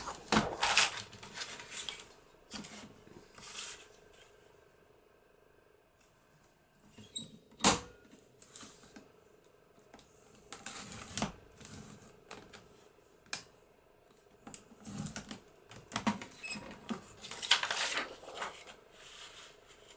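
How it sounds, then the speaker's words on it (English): An acetate sheet is cut for a junk journal embellishment, with four inches trimmed off a corner: scattered sharp snips and plastic clicks at irregular intervals, close and fairly quiet. "So I'm going to cut 4 inches off that top corner."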